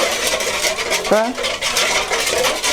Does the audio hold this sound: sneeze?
no